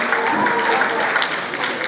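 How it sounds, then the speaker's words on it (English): A short stretch of steady crowd applause at an awards ceremony, dense and fairly loud, with a few voices mixed in. "So big round of applause for him."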